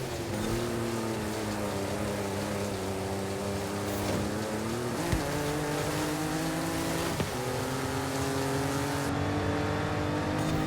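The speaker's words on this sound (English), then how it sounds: "Both of these trucks sound terrible though." Off-road truck engines racing in the video game Forza Horizon 5, a loud continuous droning roar with rising and falling revs and a few sharp shifts, steady throughout.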